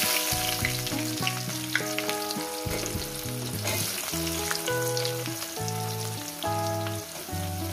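Onions hit hot oil with cumin in a pan for mutton curry, giving a loud, continuous sizzle and crackle throughout, with stirring scrapes and a melodic music bed underneath.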